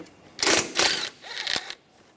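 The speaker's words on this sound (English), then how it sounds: "Use a 10mm socket." Ratcheting and clicking of a 10mm socket wrench loosening a nut on the engine of a 2009-2013 BMW 328i xDrive with a 3.0L inline-six, heard as three short close bursts of mechanical clatter with no talk.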